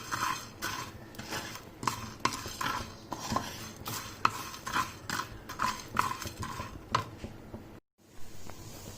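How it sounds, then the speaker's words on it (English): Bay leaves and whole spices, including red chilies, dry roasted without oil in a heated fry pan for sambar powder, with repeated scraping and stirring clatters in a steady rhythm, close and fairly loud, ending after a brief silent break. "I've heated the fry pan and I'm going to roast all of this without oil"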